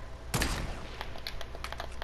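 Gunfire in the video game Fortnite: a sharp near shot followed by a rapid string of lighter, more distant pops, with no talking.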